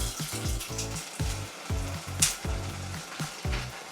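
Onions frying in a pan on the stove, a loud, steady close sizzle broken by repeated scrapes and stirs in an irregular rhythm, with no voices.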